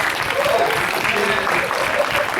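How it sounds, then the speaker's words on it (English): An audience applauds at a furry convention panel at Anthrocon 2023: a steady, loud wash of clapping from many hands that fills the whole moment without pause. "Big round of applause"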